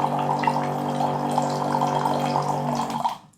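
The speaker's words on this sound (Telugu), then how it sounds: "జస్ట్ ఇది వాటర్ అనేది ఆన్ చేస్తే ఇది వాటర్ అనేది వస్తుంది" A portable automatic water dispenser pumps water in a steady humming, pouring stream for about three seconds, close and fairly loud, then cuts off abruptly.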